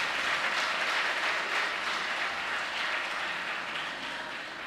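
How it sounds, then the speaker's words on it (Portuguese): A church congregation applauds during a worship service, a steady wash of clapping that sounds somewhat distant and soft, holding evenly before easing slightly toward the end. "Você pode aplaudir a Jesus?"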